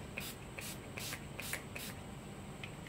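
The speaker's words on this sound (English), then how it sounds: "use this as a refreshing spray" A Mary Kay facial refreshing spray pumped in a series of quick, soft hissing spritzes at an uneven rhythm, close by and quiet, with no talking.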